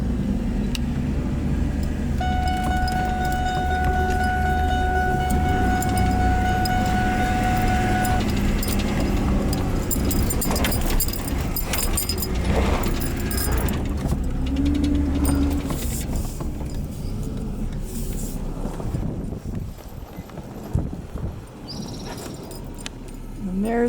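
A truck engine rumbles steadily while driving, with people talking over it and a short tonal hum early on before the motor noise eases.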